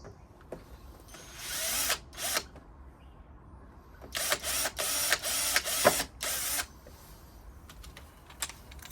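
Power drill driving screws to mount a Maxton splitter onto an Audi A5 bumper, with several short whirring bursts and a longer run of back-to-back bursts separated by brief pauses and handling noise.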